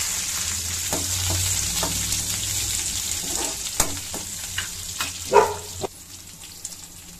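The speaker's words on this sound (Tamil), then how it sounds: "கொஞ்சம் தேங்காய் நல்லா வதக்கிக்கணும்" Coconut sautéing with mustard seeds, curry leaves, garlic and a dried chilli, a steady close sizzle of frying with scattered clicks and scrapes of stirring throughout, no voices.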